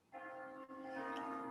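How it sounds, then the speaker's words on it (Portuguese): Bells ring with a sustained, shimmering tone that begins abruptly and then holds steady, heard quietly and alone at a distance. "ouvindo esses sinos"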